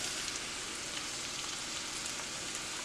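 Steak cooking in a pan, a steady soft sizzle with light crackling, faint and close, continuing evenly with no voices.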